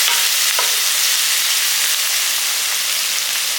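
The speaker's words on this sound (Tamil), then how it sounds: "இதுக்கு தேவையான கல் உப்பையும் போட்டுருங்க போட்டு நல்லா வதக்கிடணும் இது எண்ணெயிலே நல்லா வதக்கணும்" Ingredients sauté with rock salt in hot oil, giving a loud, dense, continuous sizzle heard close and alone for a few seconds.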